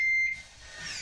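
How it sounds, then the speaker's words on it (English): A Yale Conexis L1 smart lock gives a short, clear electronic beep tone, close and fairly quiet, followed by a soft low mechanical rustle. "push down and release, and we get two beeps"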